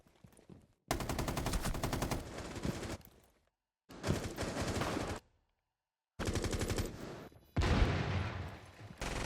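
Rapid automatic gunfire from a Ubisoft shooter video game rattles in several loud, sustained bursts, separated by short silent gaps.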